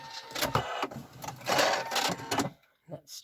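A sewing machine stitches down the end of a fabric advent calendar pocket in short rattling bursts, with brief pauses and a reverse stitch, under a speaking voice.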